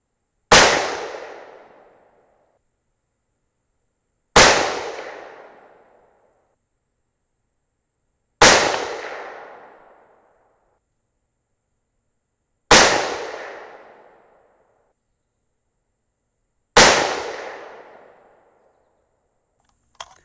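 Five 6mm rifle shots firing 103 grain ELDX bullets over a Reloader 17 powder load, each a sharp loud crack with a decaying echo, spaced about four seconds apart outdoors.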